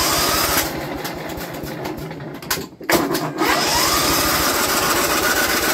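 A Simplicity riding mower engine is cranked over after a carburetor cleaning, a loud, rapid, buzzing churn that drops out briefly in a short gap, then resumes steadily and continues, with no talking.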